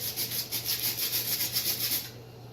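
Rhythmic back-and-forth scrubbing of abrasive grit against a glass vivarium lid to remove tape marks, about a dozen quick even strokes up close, alone, stopping just before the end.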